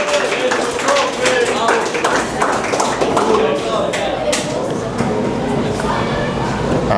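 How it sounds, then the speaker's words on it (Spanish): Audience at a literature and film talk giving a strong round of applause to welcome an illustrator, steady close clapping from many hands with some voices mixed in. "vamos a recibirlo con un fuerte aplauso"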